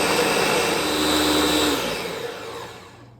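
A kitchen blender purees cooked beans into a bean sauce, a loud, dense whirring roar that holds steady, then winds down and fades as it is switched off.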